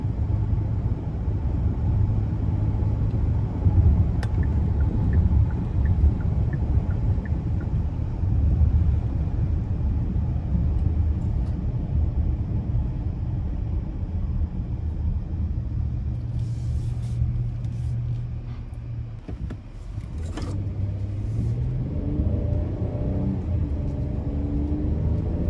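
A 2025 Hyundai Palisade Calligraphy AWD in sport mode on the way onto the interstate, heard from inside as a steady, loud cabin drone of engine and road rumble, with a brief dip and a change in engine tone near the end.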